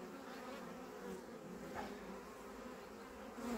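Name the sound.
bees buzzing around beehives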